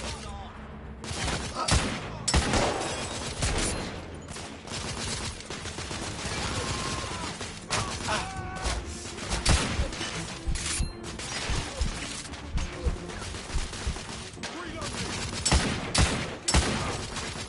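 Heavy, sustained gunfire from a shootout in The Order: 1886, with dense bursts and repeated shots layered over one another for the whole stretch and no break. Voices shout now and then beneath the shooting.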